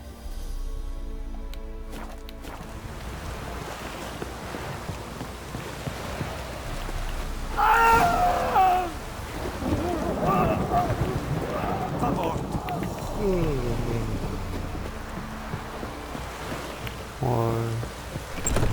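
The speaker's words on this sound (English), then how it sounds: "Looks like rain." Steady rain hisses in The Witcher 3 video game, a constant broadband wash with a few heavier swells, while voices talk over it.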